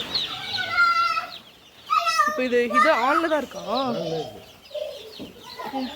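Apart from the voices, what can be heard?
chickens clucking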